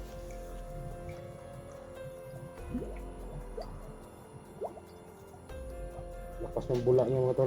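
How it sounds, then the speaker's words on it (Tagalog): Water being drawn from a well, with drips, splashes and gurgling liquid sounds against a noisy outdoor background, louder sloshing near the end; a voice talks briefly. "Kung kukuha ka ng tubig sa balon."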